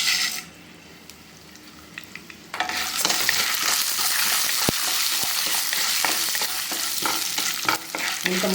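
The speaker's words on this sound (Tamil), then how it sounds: "எண்ணெய் காஞ்சிட்டு இப்போ நம்ம உளுத்தம்பருப்பு கொடுப்போம்." Urad dal dropped into hot oil in a pan, beginning with a quiet stretch and then a sudden loud, steady sizzling crackle with occasional sharp pops and stirring scrapes, close and dense.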